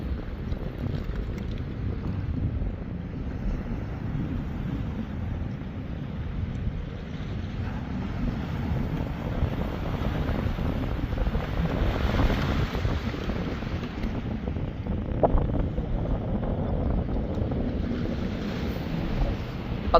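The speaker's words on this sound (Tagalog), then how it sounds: "Tingnan nyo kung gaano kalupit ang alon na yan." Strong ocean waves roll toward the shore with an outgoing current, a continuous heavy roar that swells and recedes, mixed with wind buffeting the microphone and no talking.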